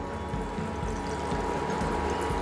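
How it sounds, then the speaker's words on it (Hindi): A cup of water is poured into a halwa mixture in a home kitchen during Diwali cooking, giving a close, continuous watery rush and splash. "और जल्दी से अब मैं डालूंगा इसमें 1 कप वाटर मोर"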